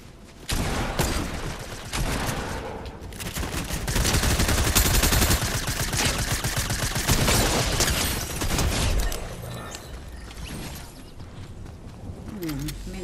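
Rapid bursts of video game gunfire crackle almost nonstop at close range, dense volleys with brief pauses, while a player talks over the shooting.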